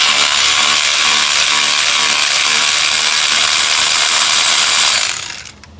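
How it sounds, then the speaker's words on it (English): A spark plug ratchet with an extension cranks steadily on a 2007 Toyota Corolla engine, a loud continuous clicking that runs for about five seconds before stopping abruptly. "Make sure you have your spark plug tool with an extension."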